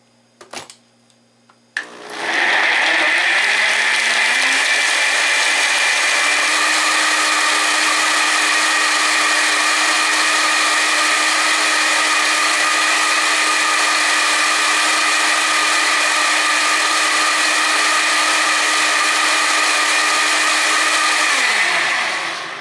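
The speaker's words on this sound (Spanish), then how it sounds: "Y ya nada más es cuestión de ponerlo en la licuadora para que se muela bien remolidito" A blender grinds cranberries into juice, starting with a few clicks and then roaring steadily at high speed for about twenty seconds before spinning down, loud and close with no talking.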